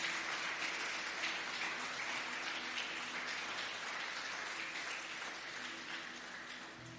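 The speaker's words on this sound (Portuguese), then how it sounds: "Vamos aplaudir a Ele." A crowd claps continuously, a dense wash of applause that slowly fades slightly toward the end, with no talking.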